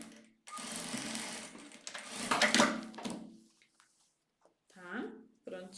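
A sewing machine stitching a leather wallet, heard as a close mechanical whir in a couple of bursts with a brief pause between them, while someone speaks Portuguese nearby.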